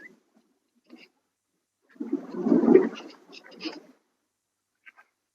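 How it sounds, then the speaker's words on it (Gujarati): Irrigation water rushes fast through farm furrows, giving a short gushing, splashing burst in the middle of an otherwise quiet outdoor stretch with a few faint sounds. "તો પાણીની સ્પીડ જોઈ શકો એટલી છે."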